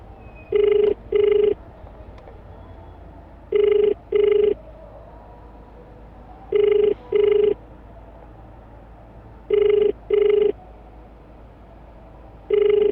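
An outgoing phone call's ringback tone, four evenly spaced double rings repeating about every three seconds, clear and steady over a faint background hum.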